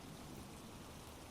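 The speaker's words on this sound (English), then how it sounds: "Let's get out of the rain and get to my place." Steady rain falls in a dense, even hiss that fills the whole moment without pause, soft and close, with no voices over it.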